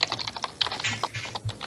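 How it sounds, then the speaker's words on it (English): Rapid clicking on a computer keyboard, close and continuous with uneven bursts of keystrokes, no voices over it. "What you typing there, Daegan?"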